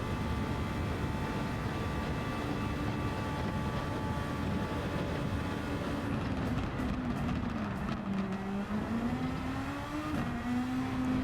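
Super Formula 23 race car lapping the Nurburgring in Gran Turismo 7, a continuous high-pitched engine drone that dips and climbs through corners, steady and moderately loud, with no talking.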